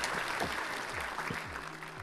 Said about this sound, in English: So big applause again for all teams.